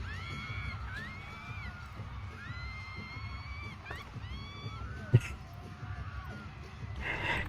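A crowd at a fan event yells, cheers and shrieks in high excited voices, with a sharp spike near the end, loud and continuous throughout.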